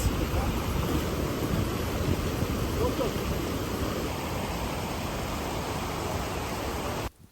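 Steady, broad rushing water of a river in Quindío, Colombia, fills the scene, a constant wash of flowing sound with no breaks until it cuts off at the end.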